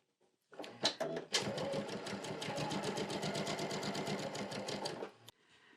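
A sewing machine with a quarter-inch foot stitching quilt fabric, giving a few short starts and then a steady rapid clatter for several seconds before it stops, fairly quiet and close.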